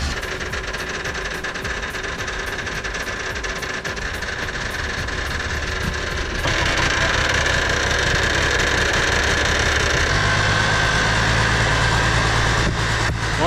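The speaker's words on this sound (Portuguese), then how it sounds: "Chegou aqui um caminhão aqui de terra." A dump truck's diesel engine idles steadily while delivering dirt to a beach house under construction. The rumble is loud and close with no talk, grows louder about halfway through, and a deeper droning hum joins near the end.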